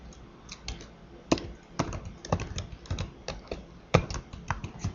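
Quick, uneven keystrokes on a computer keyboard as a login name is typed, a close series of light clicks with a few sharper taps, no talking.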